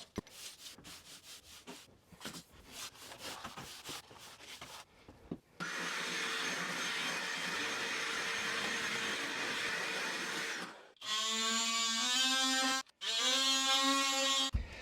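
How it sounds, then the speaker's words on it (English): Scrubbing and sweeping scrapes on a bathroom subfloor under renovation, then a loud vacuum cleaner whining steadily, briefly cutting out and restarting with a higher-pitched motor hum. "So we're just gonna do a quick sweep and a vacuum"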